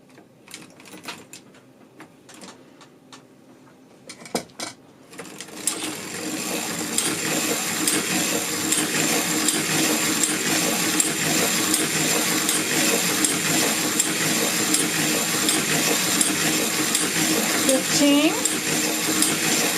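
A hand-cranked sock knitting machine turns round after round, giving a steady, loud mechanical whirring and clicking that starts after a few seconds of quieter handling noises.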